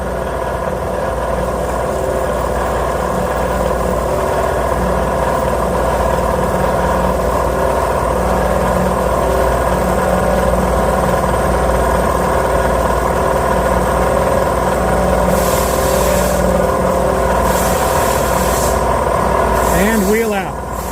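Motor-driven grinding stone cutting an engine valve seat during a three-angle valve job, giving a steady, continuous whirring drone throughout, with a few brief higher-pitched sounds near the end.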